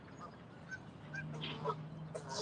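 Outdoors, a flock of geese honks and squabbles in a quiet, fairly distant tussle, with scattered overlapping calls and a faint low hum beneath.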